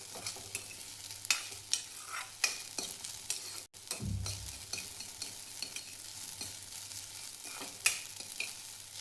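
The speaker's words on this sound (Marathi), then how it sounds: "दोन मिनिट शाबू भाजून घ्यायचा आहे तुपामध्ये" Sabudana pearls roasting in ghee for a sweet milk kheer, a faint quiet sizzle with light clicking stirs at irregular intervals and one brief dull bump midway, no talking.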